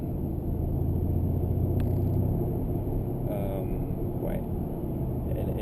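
Mercedes CLS Shooting Brake engine and exhaust while driving, a steady low rumble with road noise throughout, with faint brief higher sounds passing over it.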